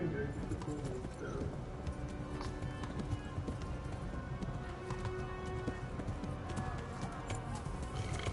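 Rapid rhythmic hoofbeats of a galloping horse in a game, steady and continuous under a busy mix of other game sounds.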